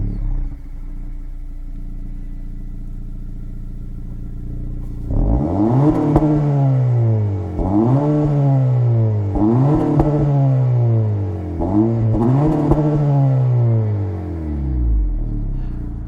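A 2022 Honda Civic Si with true dual exhaust idles low, then revs hard four times in quick succession, each rise and fall loud and close, before settling back.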